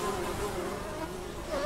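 Flies buzz in a steady, close insect drone around a woman's body and apples in an eerie PS1-style island horror game, holding level for the full stretch with a faint murmur underneath.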